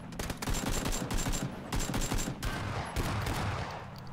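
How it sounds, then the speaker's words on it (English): Shotgun blasts from the video game PUBG go off in a rapid series of sharp, loud shots, one after another with little pause and no voices over them. "He's using a shotgun."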